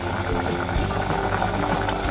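Black chicken curry bubbles at a steady, dense boil in a pot of added hot water, a continuous close simmering hiss and burble with no pauses.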